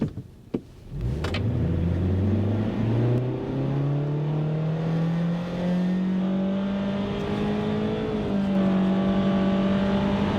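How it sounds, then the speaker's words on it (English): A 2022 Honda Civic Sport revs up hard from a standstill, rising in pitch through a gear change, loud and sustained, with a couple of clicks at the start. "do you hear how bad that engine sounds?"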